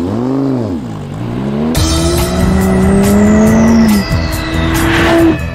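A Lamborghini Gallardo is driven fast, its engine loud and close with rising and falling revs, gear changes and a brief tire squeal, with no talking.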